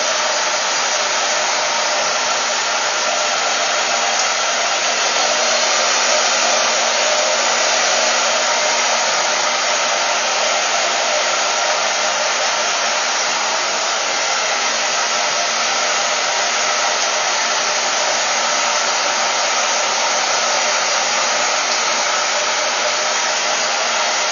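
A handheld hair dryer blows steadily while someone dries their own hair with a comb; the loud, continuous airflow roar holds level and close for the whole stretch, with no voice over it.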